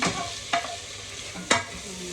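Shrimp sizzles in a hot frying pan with other vegetables, and two sharp spatula scrapes stand out over a steady frying hiss.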